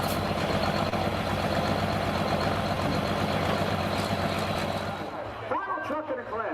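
A 2006 Chevrolet truck at a truck pulling competition roars with a loud, steady engine drone under heavy load, then eases off near the end as a voice speaks over it.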